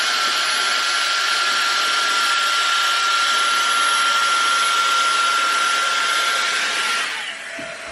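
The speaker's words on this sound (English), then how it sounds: "I can close it to blow dry" A handheld hot air brush or hair dryer blows steadily at close range for about seven seconds, a constant whooshing hiss with a motor whine, then cuts off near the end.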